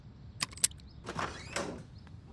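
A door is opened with a couple of sharp clicks from the latch, followed by a longer scraping and sliding swish as it moves, fairly close, with no voices.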